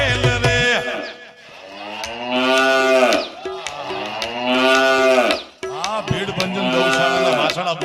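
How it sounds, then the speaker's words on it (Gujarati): Calves at a cow shelter moo loudly and repeatedly in long drawn-out bellows, several calls overlapping close by, with a brief sharp noise at the start. "ભીડભંજન ગૌશાળાના વાછડા બોલ્યા ભાઈ"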